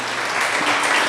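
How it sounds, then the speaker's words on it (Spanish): Dense, loud applause from a church congregation during a Spanish-language sermon, steady clapping filling the whole moment without a break. "dale un aplauso a Dios por eso."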